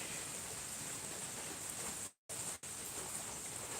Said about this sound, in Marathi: असा पाऊस चालू आहे इथं चिखल झालेला आहे सगळीकडे